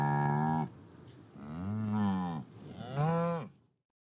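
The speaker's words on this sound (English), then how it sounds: "Cows say moo and give us milk." A cow moos three times in long, deep, drawn-out calls with short pauses between, close and loud, then silence.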